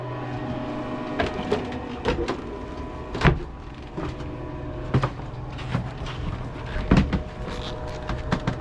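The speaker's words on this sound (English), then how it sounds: "Turn on the blower." Steady mechanical whir of a blower fan running as part of pre-start engine procedure, a constant low hum with scattered clicks and knocks over it, fairly close and continuous throughout.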